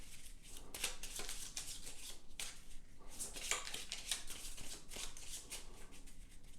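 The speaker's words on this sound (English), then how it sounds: "then we're going to do the same thing with the level 1 cards, giving them a good shuffle." A stack of level 1 board game cards is shuffled by hand at a table, giving steady riffling and rustling bursts close by that last several seconds with no voices.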